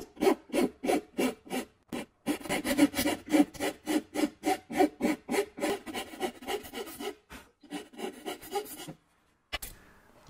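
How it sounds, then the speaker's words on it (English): A hand file rasping material off the peaked edge of a hinge barrel, a steady rhythm of close, even back-and-forth strokes, pausing briefly twice before a final lone stroke, without talk. "I'm going to file away about 1/8 inch of material right on this peaked edge."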